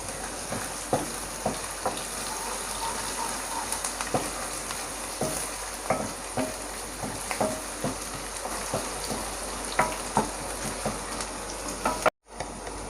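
Ginger and garlic sizzle steadily in a pan with onions being fried for a yogurt eggplant curry, a continuous close crackle broken by repeated stirring scrapes and taps, with no talking until it cuts off abruptly near the end.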